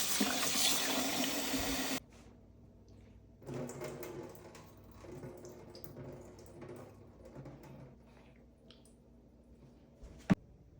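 Tap water runs loudly over raw chicken in a kitchen sink for about two seconds, then drops to softer trickling and splashing as the pieces are rinsed and drained, with a sharp clack near the end.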